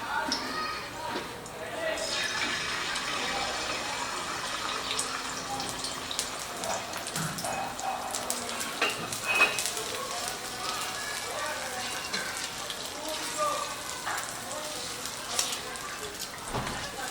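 An egg sizzles and spits in hot white oil on a tawa, a steady crackling hiss with scattered pops that lasts throughout while a person talks intermittently.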